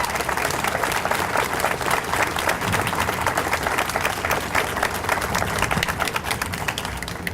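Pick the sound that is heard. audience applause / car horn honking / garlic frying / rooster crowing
audience applause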